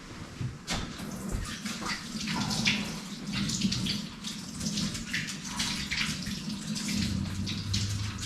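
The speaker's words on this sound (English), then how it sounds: "Wash my hands." Tap water running steadily into a kitchen sink while hands are washed, a close, continuous splashing hiss with small shifts as the hands move through the stream.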